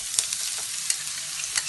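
Onions frying in a few spoonfuls of hot oil in a pan, a soft steady sizzle broken by a few brief stirring scrapes, close and fairly quiet.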